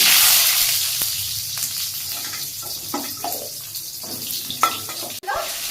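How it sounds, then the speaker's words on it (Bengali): Potatoes frying in hot oil for a Bengali drumstick (sajne data) dish, a steady close sizzle with scattered crackles and pops and occasional stirring clinks, with no one talking. "আর আলুগুলোকে একটু ভেজে নেব।"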